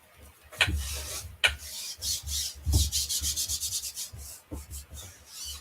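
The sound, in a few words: burnishing a transfer down onto a chalk couture insert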